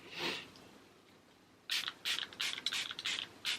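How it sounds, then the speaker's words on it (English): Catrice HD Active Performance Freezing Spray setting spray hisses in a string of quick, close mist bursts from a pump sprayer, following one earlier puff and a short pause. "I am just going to set my face with this Catrice HD Active Performance"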